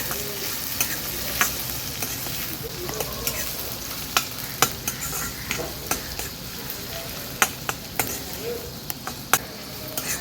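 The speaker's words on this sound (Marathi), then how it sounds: "हे बघा कांदा पण छान शिजत आला आहे" Onion and green chili fry and sizzle in a pan, a steady hiss with frequent stirring clicks and scrapes, heard close and without talk.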